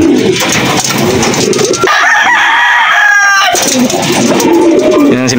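A gamecock in a breeder cage crows once loudly and close by, the drawn-out call rising over steady background chatter and other bird sounds in a poultry yard.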